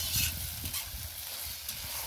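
Borscht dressing with tomato paste being stirred and stewed in a frying pan: a steady, soft sizzle runs throughout, broken by a few brief scraping stirs near the start and middle, with no voices.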